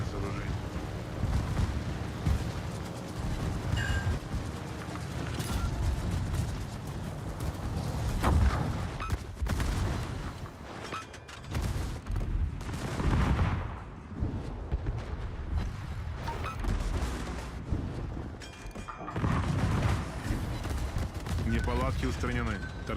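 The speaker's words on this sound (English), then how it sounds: "Hey, I got a torpedo hit." Explosions and gunfire in World of Warships naval battle gameplay, dense rumbling booms and rapid shots layered almost continuously with a torpedo hit among them, loud throughout, with a spoken voice and game announcements over the action.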